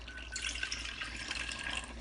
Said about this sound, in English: keep about 2 cups of water on the side. And as you're checking it, just pour some in if needed.